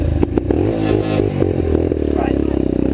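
A motorcycle on a trail starts and revs with a low, rising engine drone, close and loud. Clattering and scraping come early, and voices can be heard faintly.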